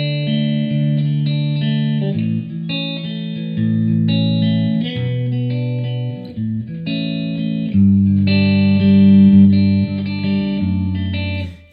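Electric guitar plays the chords of a worship song through effects, with sustained, washy strummed chords changing every couple of seconds, loud and alone.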